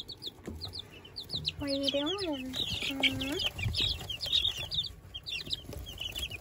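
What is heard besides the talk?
Ameraucana chickens clucking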